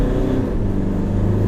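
A 2.4 litre turbo diesel car pulls away from a standstill, its engine drone steady and close, a low continuous rumble building without a break for the short stretch.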